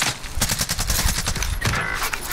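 Shooter game gunfire rattles in rapid, dense volleys, loud and close, with shots overlapping in quick rhythm and no talking.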